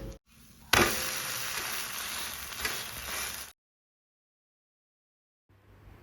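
Thalipeeth fries in oil on a griddle over a low flame. A dense, loud sizzle starts abruptly, runs for about three seconds and then cuts to near silence before a faint return.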